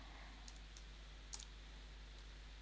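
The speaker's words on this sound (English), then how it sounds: "So I'll type in the password" Light clicks of a computer keyboard as a password is typed: a few soft, sparse keystrokes over a quiet steady hum.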